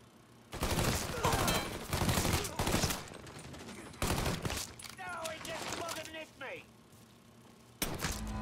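Gunfire in the video game Mafia III, several bursts of loud, sharp shots in clusters, separated by short pauses, with a brief ricochet-like ringing between volleys.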